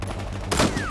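A single sharp sniper shot in the Battlefield Hardline multiplayer beta, loud and close, cracking out after a quiet half second over low game ambience.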